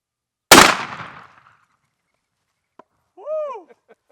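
A single loud, close shotgun blast from a Federal Grand Slam 3.5-inch turkey load with 5-shot at 20 yards, decaying over about a second, followed by a brief whoop and faint shuffling.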